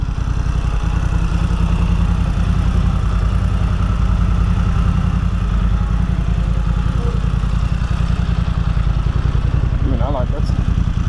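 A BMW F900XR motorcycle engine idles steadily up close, a loud, even, rapid thrumming pulse that holds for the whole stretch without a break.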